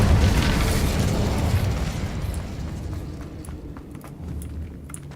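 Incendio fire spell in Hogwarts Legacy, a loud burst of roaring, crackling flame that starts strong and gradually fades, with small pops and clicks trailing off near the end.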